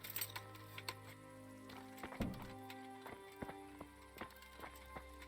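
Horse hooves in the video game Kingdom Come Deliverance, a quiet rhythmic clopping of steps under a soft layered game soundscape of tones and hum, with no talking.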